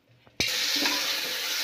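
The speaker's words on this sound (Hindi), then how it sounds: "अब हमारा प्याज पक रहा है" Chopped onions hit hot oil for chana masala, a sudden loud hiss that settles into a steady, continuous sizzle after a moment of quiet.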